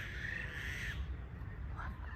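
Birds call noisily from a dry, leafless tree, a harsh drawn-out cry and a shorter squawk set against constant outdoor background noise.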